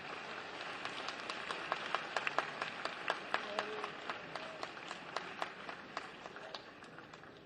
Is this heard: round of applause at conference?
yes